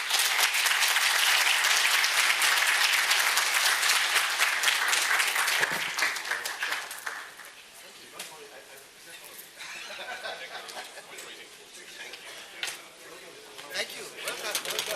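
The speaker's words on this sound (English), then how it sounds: "give a big round of applause to panel members" Loud, sustained applause from a large crowd fills the first several seconds, then thins into scattered claps and murmuring.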